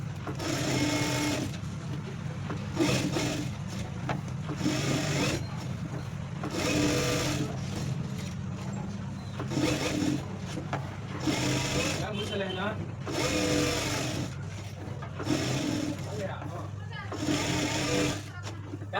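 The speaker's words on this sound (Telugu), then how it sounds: "ఇక్కడైతే నేను మిషన్తోనే వేసేస్తున్నానండి" A sewing machine stitching buttonholes on a blouse runs in repeated short bursts of fast mechanical whirring, broken by pauses where someone talks.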